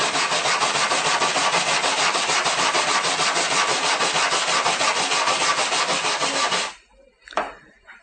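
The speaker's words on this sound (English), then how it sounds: "You want to use the small brush to really get into it" A small brush scrubs back and forth over an aluminum weld spot, a loud, steady rasping rub that runs unbroken for several seconds, then stops abruptly, followed by a brief clatter.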